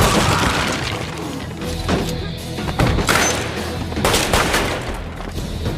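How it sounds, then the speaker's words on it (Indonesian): Heavy gunfire rings out as police and a sniper trade shots in a film action scene, with bursts of shots, booming impacts and shattering crashes layered densely and loudly throughout. "aksi baku tembak antara polisi dan si penembak Jitu pun tak dapat dihindarkan lagi"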